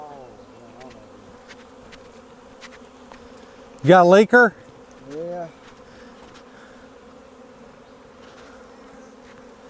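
Bees hum around a leaking beehive as a steady, moderately close drone, interrupted briefly by a short exchange of speech.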